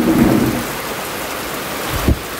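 Steady rain hisses with a rumble of thunder at the start and a short sharp crack near the end, loud and close with no voices.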